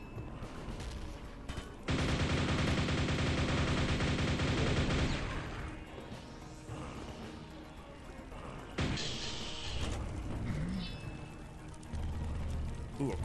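Weapon fire in Quake Mission Pack 2: Dissolution of Eternity, the lava nail gun unleashing dense, loud bursts of rapid shots in two long volleys separated by quieter game noise.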